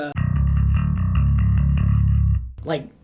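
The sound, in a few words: clean bass intro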